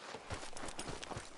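Horse hooves clip-clopping at a steady riding pace in the video game Red Dead Redemption 2, a quick, even rhythm of hoofbeats under a constant wash of background noise, at moderate loudness, with no talking.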